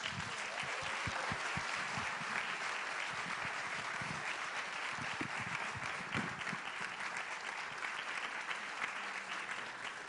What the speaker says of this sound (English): Round of applause for them both, guys. Give them a round of applause.